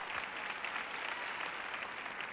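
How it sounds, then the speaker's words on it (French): Steady applause from a church congregation at a sermon, an even wash of many hands clapping throughout, moderately distant and uninterrupted, with no voice over it. "Vous ne saviez pas si vous deviez applaudir ou pas quand j'ai dit que ça va"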